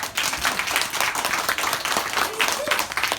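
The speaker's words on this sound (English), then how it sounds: "Give him a round of applause." An audience gives a round of applause after a classroom performance about the American Revolution, with a dense patter of clapping and some voices mixed in throughout.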